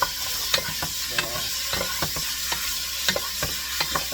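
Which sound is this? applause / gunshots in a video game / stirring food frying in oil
stirring food frying in oil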